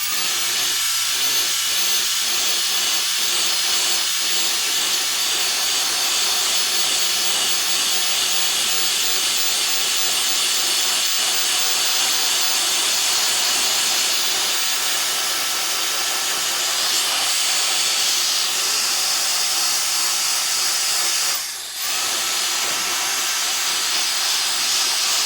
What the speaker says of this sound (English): Take a compressed gun or air.